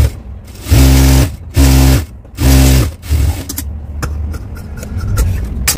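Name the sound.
sewing machine stitching a straight seam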